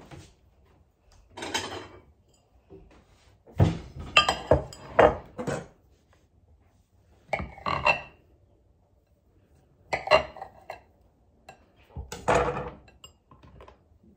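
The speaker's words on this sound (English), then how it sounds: "I'm gonna slice it for you and show you what it looks like." A knife slices through a loaf of pumpkin bread in several separate bursts of rasping sawing strokes, with quiet pauses and light clatter on a board between them.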